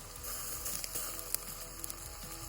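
Onions and thin-sliced green chillies with mint frying in a pan, giving a steady close sizzle with faint clicks and a soft stir or two, no voices.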